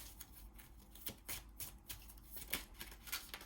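Tarot cards slide and flick off a deck with soft, papery shuffling and rapid dry snaps, close and quiet, with no voices.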